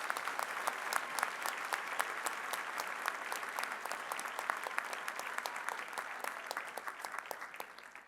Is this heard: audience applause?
yes